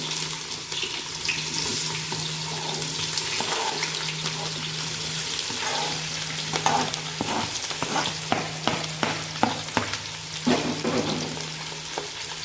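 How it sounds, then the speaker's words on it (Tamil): Onions frying in oil with cinnamon and bay leaf for chicken biryani, a steady close sizzle with a low hum underneath and a run of sharp scraping stirs near the end. "வெங்காயம் நல்லா பொன்னிறமாக செவந்து வரணுங்க. அது வரைக்கும் நல்லா வணக்கி விட்டுக்கலாம்"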